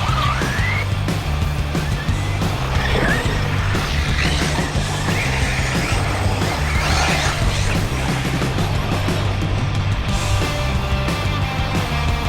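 An Arrma Typhon RC car races around an outdoor dirt track, its electric motor whining steadily with rising pitch sweeps, tire skids and a few impacts, loud and continuous throughout.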